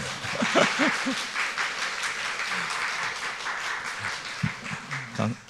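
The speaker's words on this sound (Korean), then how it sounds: "박수를 치려면 박수를 치고" Congregation applauding in a church during a Sunday worship service, a steady wash of clapping from many hands with faint murmuring voices and brief speech underneath.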